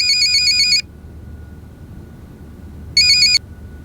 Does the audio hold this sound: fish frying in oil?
no